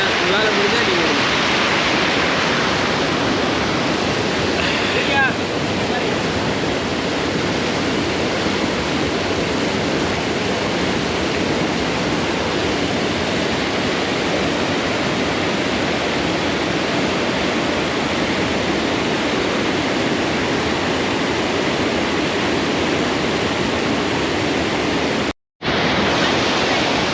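River water rushes steadily over the Thamaraipakkam check dam on the Kosasthalaiyar, a loud continuous broadband roar nearby that cuts out briefly near the end.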